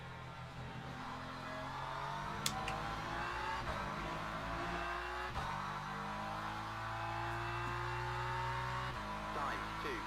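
A BMW race car in the Le Mans Ultimate racing game drones steadily, its engine pitch climbing and then dropping sharply at gear shifts, with a brief tire squeal, and no talking.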